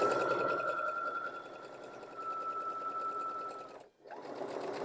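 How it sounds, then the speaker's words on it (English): A sewing machine runs at a fast, even whir while chain piecing Churn Dash quilt blocks, pausing briefly between pieces before stitching on again close up. "I'm just going to sew right off of this first block, leave my needle down"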